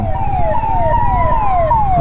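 An ambulance siren wailing on a road as it passes from behind, repeated rising and falling tones, loud and close over the rumble of traffic.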